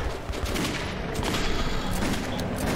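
Dense, continuous hip-fired gunfire in the video game Metro 2033, a steady loud fusillade with no clear gaps and no voices over it.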